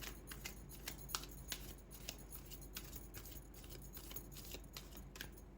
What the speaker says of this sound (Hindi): लाइक ऐसे शफल करने पड़ रहे हैं ये